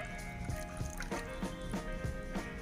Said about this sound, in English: here I'm also going to be adding half a cup of water